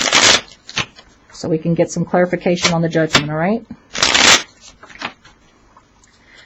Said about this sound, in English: I'm going to go ahead and shuffle it very quickly and get this shuffled for our clarifying cards